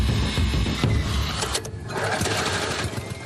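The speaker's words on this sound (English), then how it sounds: "Jonathan is testing the first crucial part of the yellow team's craft, their lift engine and fan." A homemade lift engine driving a fan on a yellow team's scrapheap-built craft runs under test, a steady loud mechanical drone with a brief dip in the middle before it picks back up.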